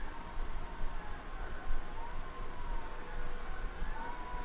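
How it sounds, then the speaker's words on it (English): Fire truck siren wailing faintly in the distance, a rising and falling tone half-buried under steady broadband noise. "And all of a sudden you can hear a fire truck in the background."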